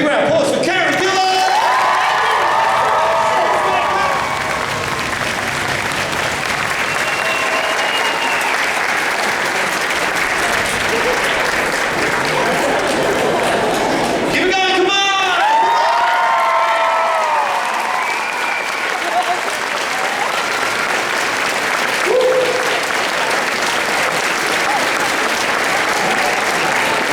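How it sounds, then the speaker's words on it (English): Roaring crowd applause with cheers, whoops and shouts for actress Karen Gillan at a convention panel in Wellington, continuous and loud for nearly half a minute, with excited voices rising above the clapping in waves. "big round of applause for Karen Gillan"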